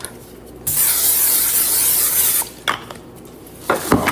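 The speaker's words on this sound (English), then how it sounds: "I spray the bowl, put the dough in, spray the top." Cooking spray hisses from a can onto a bowl in one long burst lasting nearly two seconds, followed by a few shorter, sharp spritzes, all close by.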